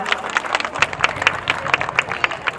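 An audience at a rocket festival contest claps for a youth traditional dance troupe, with rapid, dense handclaps that hold steady for a few seconds.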